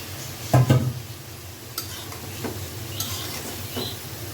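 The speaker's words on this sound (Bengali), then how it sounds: "এখন আমি মাছগুলো দিয়ে কষাই নিই" Fish pieces sautéed in a pan with a utensil scraping and clinking against the metal, a couple of louder knocks at the start followed by soft stirring and faint sizzle, close by without speech.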